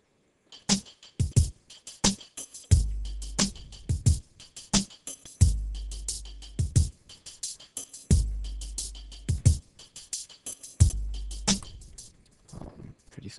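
Hip-hop beat sequenced in Reason 3 with one element removed, playing a sparse loop of punchy kicks, snaps and clicky percussion in a choppy repeating rhythm, loud and up front with no voice.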